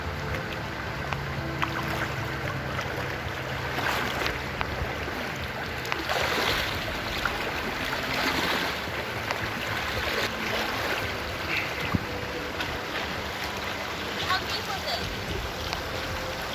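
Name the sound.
wading across a cold shallow creek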